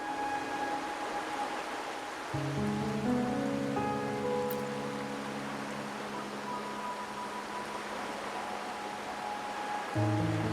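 Steady rain falls in the video game Wuthering Waves, a continuous hiss, while low sustained musical tones swell in and out beneath it, with no talking.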